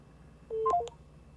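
A caller's line connects on a live radio phone-in, heard as a quick burst of three or four short, clean telephone keypad tones in the middle of a quiet line with low background hum.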